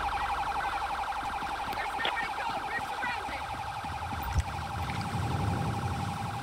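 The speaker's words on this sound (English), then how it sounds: "I'm gonna turn off my sirens." A police car siren in GTA 5 wails in a steady, repeating electronic pattern at moderate volume, with faint game background sounds and a few thumps beneath it.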